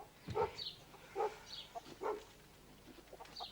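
A dog barks in a few short, spaced bursts at a distance, faint and somewhat muffled against quiet outdoor background noise.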